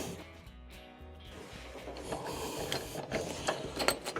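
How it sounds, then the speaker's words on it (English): Ratchet wrench tightening a bolt on the drive motor of a Maytag dryer, giving steady mechanical clicking and rattling that grows louder and busier toward the end, close by with no talk. "Let's slide in our wrench. Drop in the ratchet"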